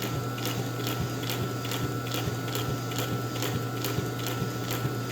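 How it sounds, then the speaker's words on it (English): A Pfaff 145-H3 industrial sewing machine runs slowly, its needle mechanism ticking in a steady, even rhythm of roughly two strokes per second over a constant motor hum, close and moderately loud with no talking. "After cleaning and adjusting the motor, I can go this slowly without a problem."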